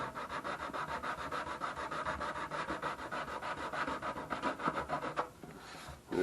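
Sanding the dyed wooden body of a Harmony Roy Rogers guitar, a close, steady back-and-forth rasping scrub with a quick rhythmic pulse that stops briefly near the end before resuming.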